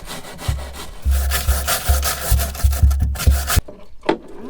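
Wire brush scrubbing rust off a van's body panels, a series of rough, rasping strokes in a steady back-and-forth rhythm, close and fairly loud, then stopping abruptly near the end.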